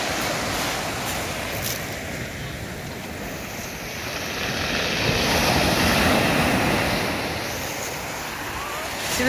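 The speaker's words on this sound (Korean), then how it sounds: "바닷소리 들으니까 되게 좋다" Ocean waves roll and wash in a continuous roar on the sea coast at Gyeongju, South Korea, swelling in the middle, with wind buffeting the microphone.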